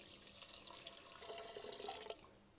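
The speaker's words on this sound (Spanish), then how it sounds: "Y le vamos a poner un poco de agua." Water poured into a cooking pot for turkey barbacoa with onions, a soft, faint splashing stream lasting a couple of seconds, heard alone.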